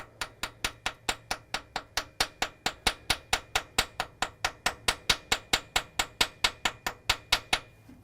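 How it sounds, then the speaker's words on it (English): A small body hammer taps masking tape along the edge of an engine manifold at the carburetor flange, a steady run of about thirty quick, light, even metallic taps, close and alone. "you're going to take a little body hammer, not a big one"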